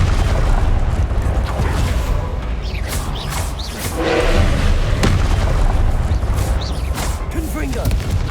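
A Confringo fire spell bursting with booming explosive impacts during combat in the video game Hogwarts Legacy, several thuds and blasts amid steady battle noise.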